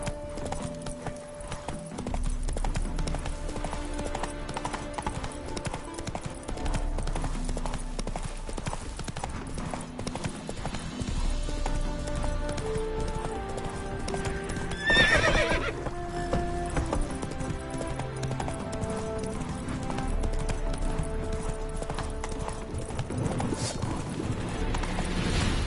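Hooves clip-clop steadily at a gallop with a horse neighing now and then in The Witcher 3: Wild Hunt, set over continuous game music with a louder burst midway.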